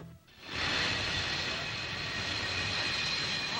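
Steady, loud roar of a passenger airplane's engines near a boarding area for a flight to Hawaii, rising in after a brief quiet moment and holding evenly with a bright high whine on top.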